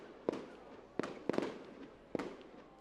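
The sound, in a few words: fireworks going off during a football match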